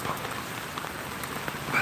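Steady rain falls during a North Carolina rainstorm, a dense patter of drops on surfaces at a constant moderate level with no voices.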